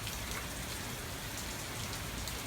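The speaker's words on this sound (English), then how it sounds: "It really makes you think something's slamming up against the window when it's just the force of the rain." Heavy rain from Hurricane Matthew pounds a house in a dense, unbroken roar, steady and close, with no voices over it.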